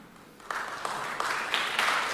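An audience bursts into applause at the CRCNA Synod 2023 church assembly. The clapping is moderate and builds over about two seconds, with no voices over it.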